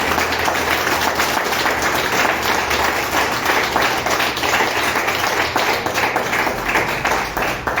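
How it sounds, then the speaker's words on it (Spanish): A church congregation applauds together in steady, dense clapping that carries on throughout without pause. "Dar una ofrenda de palmas al Señor Jesucristo."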